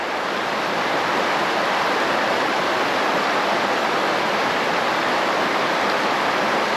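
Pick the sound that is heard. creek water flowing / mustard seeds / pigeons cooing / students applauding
creek water flowing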